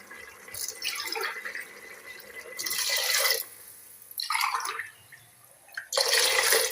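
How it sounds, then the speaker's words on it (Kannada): Water poured from a cup into a pot for vegetable pulao, arriving in several separate splashy gushes with short quiet gaps between them, close by and with no talking. "ಇದರಲ್ಲಿ 6 ಲೋಟ ನೀರು ಹಾಕ್ತಾ ಇದ್ದೇನೆ ನಾನು."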